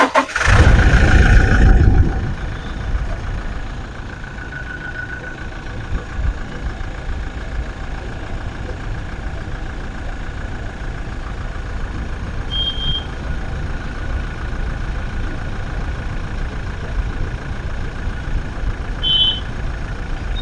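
A 2016 Toyota Innova Crysta GX automatic diesel engine cranks and fires with a loud burst, then settles into a steady, smooth idle that runs on with a couple of faint high chirps.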